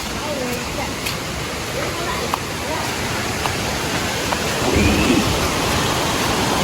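A small river in the Konkan rushes past in a steady, dense, loud wash of water, with a few faint voices in the background.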